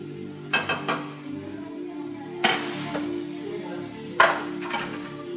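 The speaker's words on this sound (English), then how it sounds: "we've got some caramelization happening with the onions and the butter" Onions caramelizing in butter in a pot give a soft, steady sizzle under a low hum, broken by three clinks of a utensil stirring against the metal pot.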